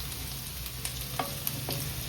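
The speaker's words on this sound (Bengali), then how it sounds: "এখানে 2 চামচ রসুন কুচি আছে, এগুলো একটু হালকা করে ফ্রাই করে নেব।" Two spoonfuls of chopped garlic fry lightly in a pan for an egg chilli dish, giving a steady soft sizzle with a few faint clicks and no talking.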